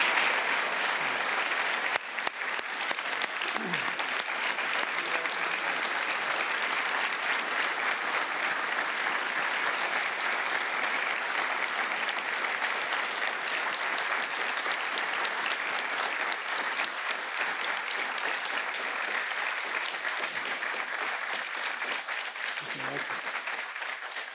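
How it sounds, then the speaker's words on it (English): Sustained, even applause from a large audience honoring Medal of Valor recipients, including NYPD officers, at a formal presidential ceremony, steady dense clapping for over twenty seconds. "let's give one last big round of applause to the recipients of the award"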